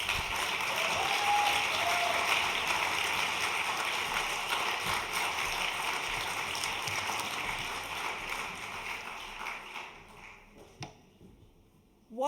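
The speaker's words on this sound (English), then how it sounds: "please give a very, very, very big round of applause to Annette Scheunpflug and to Liam Wegimont" Sustained applause from a large audience at the closing session of a global education conference, a dense steady patter that holds for about ten seconds and then thins out and fades.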